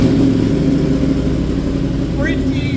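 A 2025 Yamaha R1M motorcycle with a short, mellow exhaust idles and revs close by with a loud, steady low engine rumble, and a brief rising rev appears near the end.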